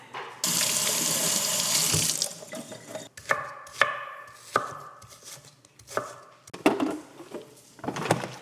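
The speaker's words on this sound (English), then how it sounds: "I always like rinse it with water" Tap water runs hard into a kitchen sink as onions are rinsed, a steady hiss that stops, followed by scattered knocks and clatters of handling.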